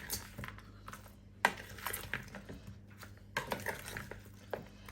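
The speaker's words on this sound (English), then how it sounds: "you can simply use your spoon or your hands if you prefer and give it all a good mix" A spoon scrapes and clinks in a big green bowl as chicken wings are tossed with barbecue sauce, giving irregular close taps and squelching knocks at a quiet level.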